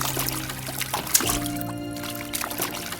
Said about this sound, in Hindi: उसने आंखें पोंछने के बजाय अपने ऊपर 2 मग पानी डाल दिया।